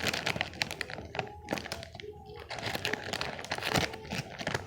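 Scissors cut and work at crinkly plastic packaging around a squishy toy, giving close, irregular crackling, snipping and rustling with a few thunks from handling.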